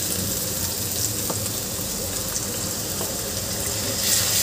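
Ground masala paste sizzles with onions in a hot pan, a steady close frying hiss with no talk.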